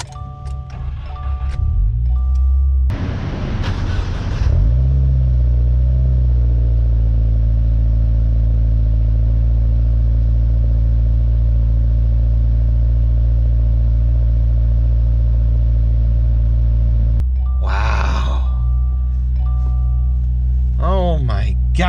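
A 2020 Subaru WRX engine cranking and catching, then settling into a loud, steady idle rumble close by, with a brief rev near the end and a voice speaking over it.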